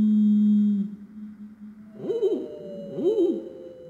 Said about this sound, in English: We got some fantastic recordings and we slowed down the bird song.